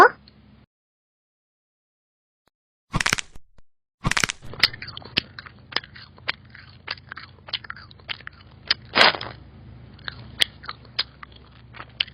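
Someone bites and chews fresh, crisp homegrown food close up, with one or two loud crunches followed by a run of small crackling chewing sounds against a quiet background.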